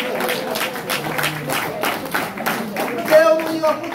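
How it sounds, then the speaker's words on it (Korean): An audience claps at a lecture event on Korean reunification, giving a busy burst of many hands with rhythmic peaks. Voices and crowd murmur mix in beneath. "박수 한번 쳐주세요."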